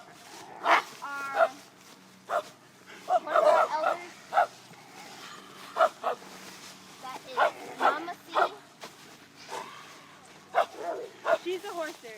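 A puppy and an older dog play-fight, letting out scattered short yips and barks in quick irregular bursts, close by and intermittent, while a person talks over them.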